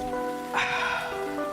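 Steady rain falls on a surface in a coffee commercial, a continuous hiss with scattered drop detail, heard alone with no talking over it.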